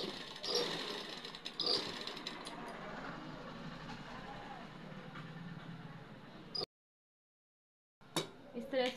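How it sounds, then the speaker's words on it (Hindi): A sewing machine stitches a dart blouse seam, running in a steady continuous whir at close range, then stopping abruptly before a short silence and a few handling sounds. "1/2 इंच दबाते हुए हमें सिलाई लगा लेना है।"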